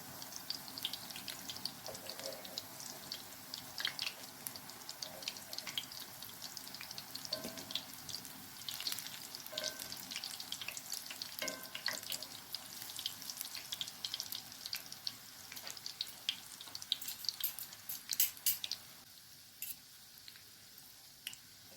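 Baursak dough frying in hot oil, a steady broadband sizzle and crackle with scattered pops, fairly soft and continuous for the whole stretch, no voices.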